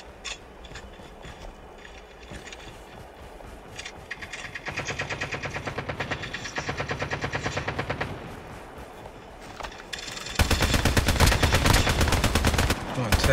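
Automatic gunfire in the battle royale mode of the mobile game Call of Duty Mobile, with rapid continuous bursts that grow louder and denser toward the end and faint game sounds underneath.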